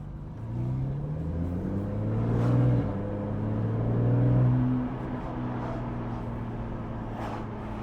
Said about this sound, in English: there's this nice grunt and rumble to the exhaust on this